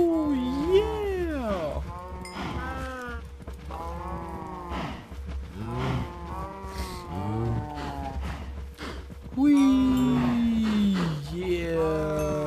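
Cows mooing in the Minecraft video game on a farm with a wheat field, several drawn-out moos repeating through the whole stretch, loud and close, with someone talking over them.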